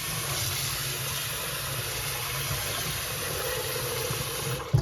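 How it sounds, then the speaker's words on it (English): Water pours steadily into a bowl of short grain sushi rice for rinsing, a constant hissing rush close by that ends with a brief knock. "we're going to have to add water and rinse it out"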